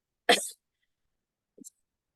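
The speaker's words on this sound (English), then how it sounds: "going to sneeze, sorry." One sharp, close sneeze bursts out, followed a moment later by a brief faint sniff or small vocal sound, then silence.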